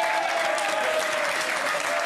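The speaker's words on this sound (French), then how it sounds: "Applaudissements pour eux, merci." A television studio audience applauds in a dense, steady wash of clapping that holds at an even level throughout, close and full with no break.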